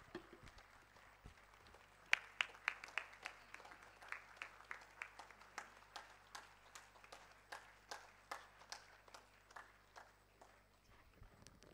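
An audience claps in slow, steady unison at a ceremonial gathering, sharp rhythmic claps repeating about twice a second at moderate distance, with a low hum running underneath.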